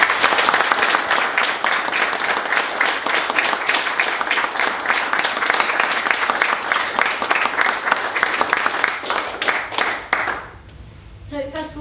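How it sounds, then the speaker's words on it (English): An audience at a talk event applauds Warren Mosler with steady, dense clapping for about ten seconds, then it tapers off into scattered claps and quiet room sound. "let's give Warren a round of applause"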